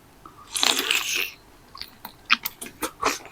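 Crunchy Thai pork rinds (khaep mu) being bitten and chewed up close, a loud crackling crunch at first followed by a series of sharper, rhythmic chewing crunches with no talking.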